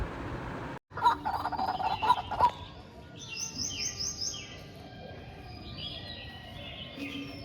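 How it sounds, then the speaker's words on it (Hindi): Small birds chirp and tweet noisily near a home in Lucknow after a morning walk, bright calls repeating in overlapping bursts over a low background hum, with no talking. "कितना शोर मचा रही थी चिड़िया, कि बोलने नहीं दे रही थी।"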